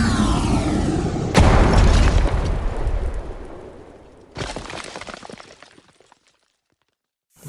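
Anime explosion from the Granite Blast attack in Jujutsu Kaisen: a sudden loud boom with a long rumbling roar, then a second crashing blast that breaks apart and fades into silence.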